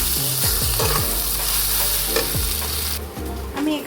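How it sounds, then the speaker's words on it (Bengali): Eggplant frying in a pan, stirred and mashed with a spatula: steady loud sizzle with repeated scraping strokes of the spatula, no voices. "বেগুনটা যখন ভাজা হয়ে আসবে, নরম হয়ে যাবে, তখন খুন্তি দিয়ে একটুখানি নেড়ে নেড়ে এটাকে মাখা মাখা মতো বানিয়ে ফেলতে হবে"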